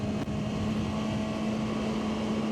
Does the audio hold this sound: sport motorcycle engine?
yes